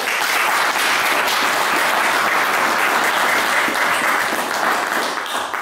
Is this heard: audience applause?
yes